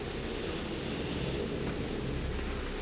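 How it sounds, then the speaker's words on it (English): Steady rain, a continuous soft hiss of falling drops at a constant low level with no voices. "I'm hearing something right now that sounds like rain."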